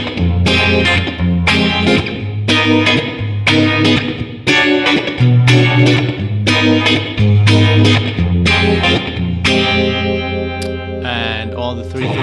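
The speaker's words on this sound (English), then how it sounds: "Together with the Univibe" Electric guitar run through a Digitech RP1000 with Univibe modulation and EMT plate reverb, playing loud, sustained chords in a steady rhythmic pattern with swirling, washy decay.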